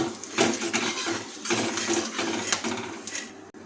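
Crushed cardamom, cloves and cinnamon stirred in hot oil in a pan, with repeated metallic scrapes and clinks of a spoon over a constant sizzle, close up and without talk.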